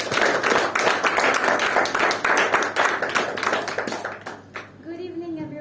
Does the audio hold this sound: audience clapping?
yes